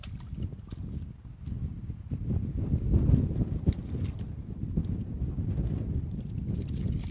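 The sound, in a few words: wind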